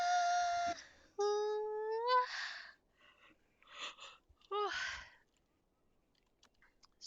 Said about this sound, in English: Stretch and yawn, apparently.